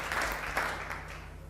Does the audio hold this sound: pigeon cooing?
no